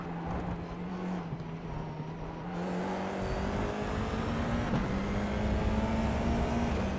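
A Formula iR-04 race car at Monza in iRacing, its engine droning loud and close, shifting down and then rising steadily in pitch as it accelerates, with no voices.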